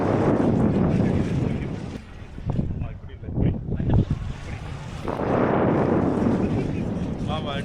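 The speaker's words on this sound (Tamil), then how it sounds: "ஆனா இப்பதான் நல்ல காத்தா இருக்கு." Strong wind blows across a Kerala houseboat on the Alleppey backwaters, roaring steadily into the microphone and easing briefly midway before surging again, while voices are heard faintly.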